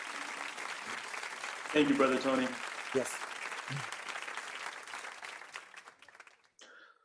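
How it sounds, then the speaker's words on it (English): A community gathering gives applause for a guest speaker, moderate clapping under a voice speaking, with the clapping fading out toward the end. "Let's give him a clap,"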